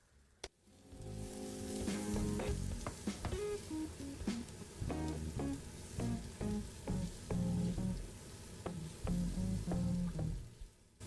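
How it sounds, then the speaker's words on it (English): Prawns sizzling in a hot pan of creamy garlic mixture while being stirred, with a steady close fry broken by clinks and scrapes of a utensil and occasional louder pops. "We'll add our prawns now, and then we'll give a quick mix."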